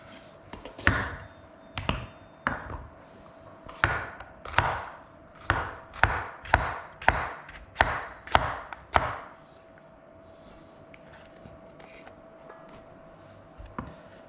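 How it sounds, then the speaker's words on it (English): A knife slices green peppers on a cutting board, a run of about fifteen sharp, evenly spaced chops that speed up slightly, then stop, leaving quiet room tone. "I'm gonna slice up a few more green peppers."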